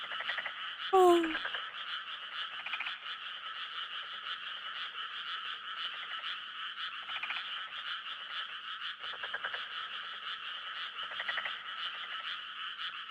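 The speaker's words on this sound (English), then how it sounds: "I like the frogs. Let's go listen to them." Frogs croak in steady, dense chorus throughout a summer night scene in the Harvest Moon: Boy & Girl video game, with a brief rising chirp near the start; continuous and even, no talk.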